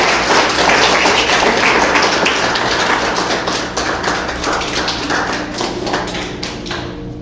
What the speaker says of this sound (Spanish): ¿Puedes darle una ofrenda de palmas al Señor Jesucristo?